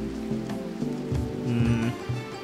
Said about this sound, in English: Oh, finally, it's raining.